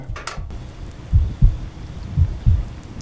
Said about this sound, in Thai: ผมได้ยินเสียงหัวใจเต้นจริงๆนะเนี่ย